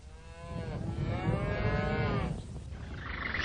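Cattle moo in long, drawn-out bellows, one low call swelling and sustained over a couple of seconds, set against the open-air rumble of a large roundup of livestock.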